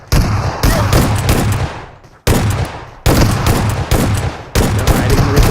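Heavy gunfire in a video game, sustained loud bursts of rapid shots in four long volleys separated by brief pauses, with no talking.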